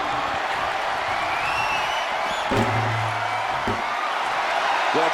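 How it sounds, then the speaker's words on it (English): A wrestling arena crowd in WWE 2K25 roars in a steady wash of cheering, with a sustained horn-like tone and brief bursts rising above the constant crowd noise. "The crowd is fired up."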